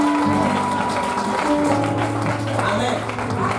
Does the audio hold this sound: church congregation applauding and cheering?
yes